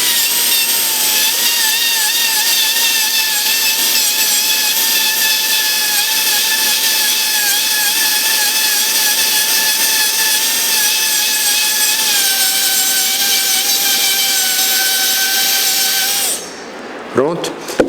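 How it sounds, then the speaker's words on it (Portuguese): A high-speed dental drill bur grinds a tooth for a metal-ceramic crown, a loud continuous whine holding steady for about sixteen seconds before cutting off, followed by brief faint handling noises. "Posso usar uma broca F ou FF para dar o acabamento."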